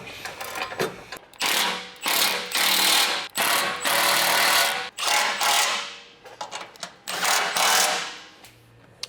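A power ratchet drives in skid plate bolts on a Toyota 4Runner during a CaliRaised full skid plate install: several close, loud, whirring mechanical bursts of a second or so each, separated by short pauses.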